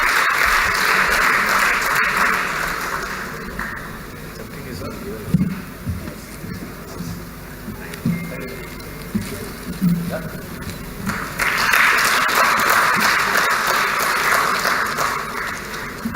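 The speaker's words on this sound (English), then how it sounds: "A huge round of applause" An audience at a panel discussion on digital assets and crypto in India bursts into steady applause, which fades under a stretch of speech and muffled rustling before a second full round of clapping rises again.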